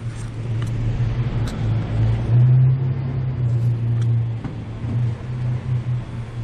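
A 2015 Honda Civic engine fitted with a Takeda intake runs with a steady, close, deep rumble that swells briefly midway, with no talking.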